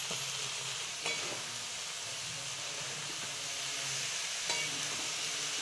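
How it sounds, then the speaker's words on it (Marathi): Puran mixture with cardamom powder is stirred and fried in a pan, producing a steady close sizzle with occasional spatula clicks and scrapes against the metal. "तर चांगलं परतून घ्यायचं।"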